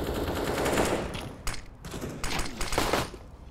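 Decoy grenade in a Counter-Strike match spits fake gunfire, a run of sharp automatic bursts with short gaps between them, moderately loud over steady game ambience.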